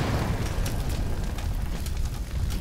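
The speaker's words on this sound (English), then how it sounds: "Okay, that just caught fire." A dense, steady roar of something catching fire and burning in the video game Bioshock, loud and continuous with faint crackling bursts, no voices.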